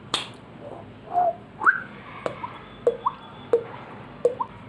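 A person imitates water droplets by tapping a finger on the cheek while puffing air through the mouth, making about eight close, hollow plops and pings at uneven intervals over quiet background hiss.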